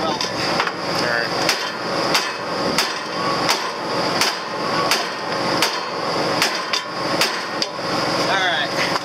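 A hammer taps repeatedly on a part of a BB340 pickup, about a dozen sharp, evenly spaced metallic strikes roughly every half second, close and loud over a steady engine rumble.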